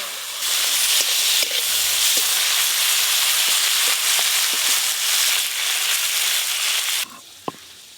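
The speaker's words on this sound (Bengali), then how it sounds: "চিংড়ি মাছগুলো খুব বেশি কড়া করে ভাজবো না, একটু হালকা করে ভেজে নেব।" Shrimp fry lightly in a pan with a strong, continuous sizzle and occasional clicks of a spatula stirring, close up, before the hiss drops away near the end.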